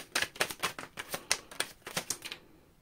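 A quick run of crisp riffling snaps as tarot cards are shuffled, about a dozen in a steady rhythm, close and fairly quiet, then the sound stops.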